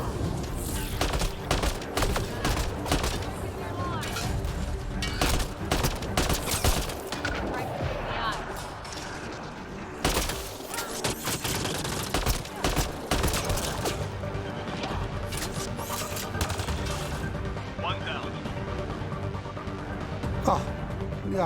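Bursts of gunfire from hostile enemies fill a Mass Effect Andromeda battle, a dense, continuous barrage of shots and impacts running throughout, with voices talking over the combat.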